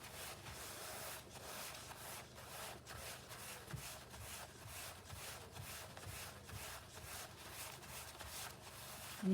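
Grout being wiped off a mosaic by hand, producing faint, continuous rhythmic rubbing strokes heard close up without speech.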